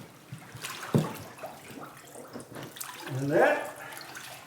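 An elk hide and rocks go into water outdoors in the Canadian bush, making irregular splashes and sloshing with a sharper plunge partway through, while a person speaks briefly.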